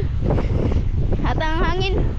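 Strong wind gusts roar steadily across the microphone on a seashore with rough, heavy waves, a constant broadband rush throughout, while a person talks over it partway through.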